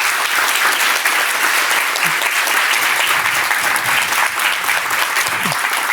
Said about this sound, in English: I think we should give Sam a great applause for this fantastic lecture.